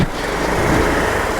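Loud, close motorbike engine held on the throttle, a rough continuous rumble while climbing a steep lane, with no talking.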